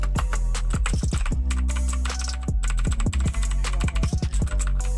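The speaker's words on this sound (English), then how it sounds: "it's got MX Blues," Fast typing on a VAVA mechanical keyboard fitted with Cherry MX Blue switches gives sharp, clicky keystrokes in quick irregular bursts, close and loud, with a low hum underneath.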